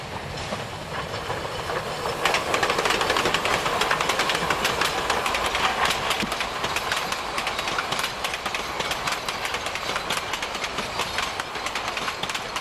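A narrow-gauge steam train rumbles and clatters steadily as it pulls into Cranzahl station, Saxony, in 1994, a dense, continuous roar with rain hissing throughout.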